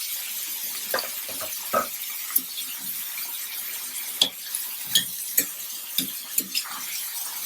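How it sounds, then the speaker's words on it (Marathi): Onion and tomato cooking in oil for a fish keema, a soft continuous sizzle broken by intermittent stirring taps and scrapes, close and moderately quiet, with no voices. "आता त्याच्यावर तेलावर त्या कांदा टोमॅटो मस्तपैकी शिजवून घेऊया."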